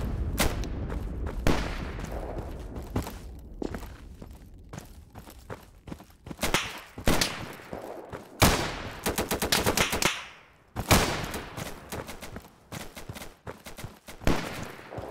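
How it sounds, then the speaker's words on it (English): Rapid, loud sniper rifle fire in a video game raid, sharp cracks coming in irregular bursts and volleys that echo through a noisy firefight with no voices over them. "that sniper is firing fast, unless there's like 20 fucking snipers."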